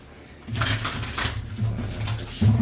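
Cards being shuffled in quick riffling bursts, a soft crackly flutter repeated several times close by, with a faint low hum underneath.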